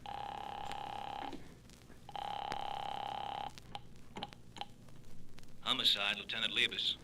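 An outgoing telephone call rings twice with long, steady electronic tones on the line, followed by clicks and a brief voice answering, in an old-time radio drama.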